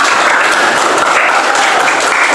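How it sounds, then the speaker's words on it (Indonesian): Elementary madrasah pupils clapping for themselves in class after finishing a crossword worksheet, a dense, loud, steady round of applause with no talk. "Ayo tepuk tangan untuk kita semua."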